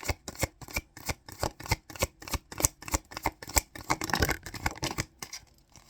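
Tarot cards are shuffled by hand in a quick, steady rhythm of crisp riffling bursts, about three per second, close and clear with no talking.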